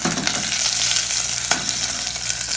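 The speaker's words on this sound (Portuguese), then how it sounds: "Aqui eu vou colocar só um pouquinho de azeite. Daí logo em seguida eu coloco o bacon." Bacon frying in a little olive oil in a pan, a steady close crackling sizzle with occasional louder pops, continuous and without voices.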